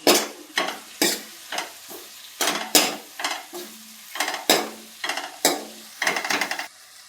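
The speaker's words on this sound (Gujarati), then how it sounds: "આપણે મીઠો લીમડો નાખી દઈશું એમાં. બધું મિક્સ કરી લેશું." Curry-leaf sabji is stirred in a pan for a Gujarati home recipe: about a dozen sharp, close scraping strokes in uneven rhythm, with a quiet sizzle between them.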